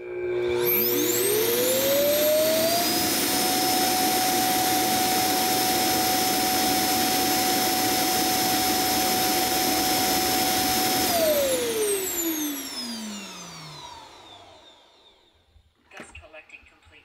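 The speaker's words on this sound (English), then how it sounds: "Start dust collecting." A Neabot self-emptying robot vacuum dock spins up with a rising whine into a loud, steady roaring suction with high tones, runs for about ten seconds, then winds down with a falling pitch and ends in a few faint clicks.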